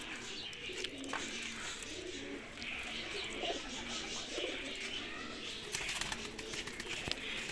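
Pigeons, including leg-banded birds, coo softly in low, rolling calls over a steady background hum, with occasional rustles and wing flaps nearby.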